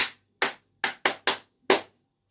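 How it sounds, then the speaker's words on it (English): Six sharp, separate hand claps in an uneven rhythm, close and loud with silence between them, from a cake decorating class clapping for themselves. "Clap for yourself."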